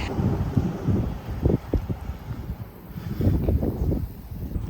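Wind gusts buffet the microphone during an outdoor run, a low, uneven rumble that swells and fades in waves, loud and close, with no talking.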